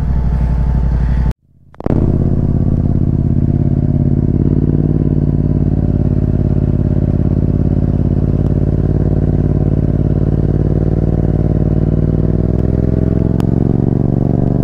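A motorcycle engine running close and loud at a scenic outdoor spot, a steady droning rumble that cuts out for a split second near the start and then carries on unchanged.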